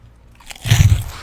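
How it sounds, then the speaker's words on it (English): Loud, close-up crunching as someone bites into crisp food in a podcast setting. A short burst of crackly chewing rises sharply after a quiet start, with no talking. "do you think you could crunch any louder?"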